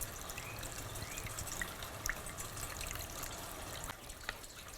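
Small DIY water fountain spraying and splashing, a faint, steady trickle and patter of falling water with a few soft drips, heard alone.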